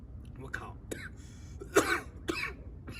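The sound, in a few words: cough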